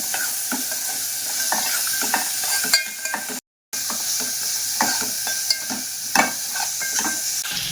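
Peas, carrot and capsicum fry in an oily pan while being stirred, a steady loud sizzle with repeated scraping and clinking of the spatula against the pan, briefly cut out near the middle.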